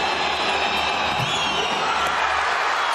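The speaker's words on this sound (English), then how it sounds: "And the crowd now well and truly in this one." Basketball crowd in an arena in Rabat during a FUS Rabat versus Rivers Hoopers game, a steady, dense roar of cheering and shouting that fills the whole moment without letup.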